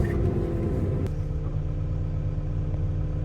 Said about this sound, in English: so I think we'll use the forklift